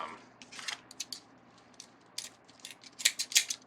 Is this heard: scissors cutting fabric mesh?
yes